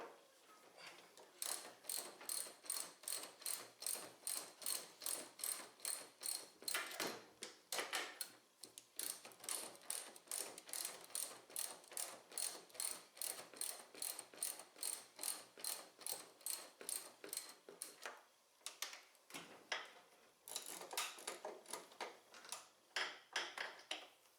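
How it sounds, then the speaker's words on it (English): Two 14mm sockets on ratchets turning fasteners on the front shocks of a 2002 Yamaha SX Viper snowmobile: a long, steady run of quick ratchet clicks, close and crisp, broken by a few short pauses. "I'm using 2 14mm sockets and ratchets"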